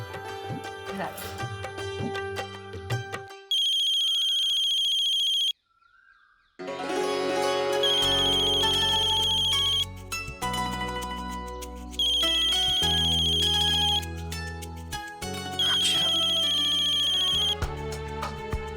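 A phone rings repeatedly in bursts of a bright electronic ringtone, loud and close, with short pauses between rings.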